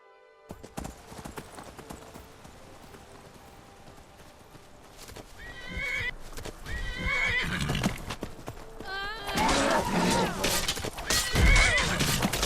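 A horse in Skyrim whinnies and snorts close by while its hooves clop in a steady gait, the neighing growing louder and more frantic toward the end.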